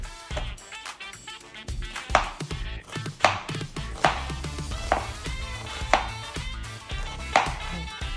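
A knife chops through onions on a cutting board in sharp, evenly spaced strikes, roughly one per second, close and distinct over a faint background with no talking.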